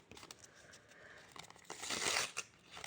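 A paper surprise packet crinkling and rustling as it is unwrapped by hand, close and fairly soft, with a denser burst of crackling near the end.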